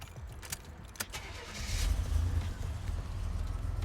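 A 1987 Buick Grand National is started: keys jangle, the starter clicks and cranks, then the engine catches at about two seconds and settles into a low, steady idle rumble.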